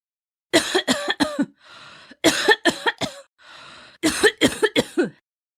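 Three bursts of harsh, wet coughing, several coughs each, separated by raspy, wheezing breaths; close and loud with no talking.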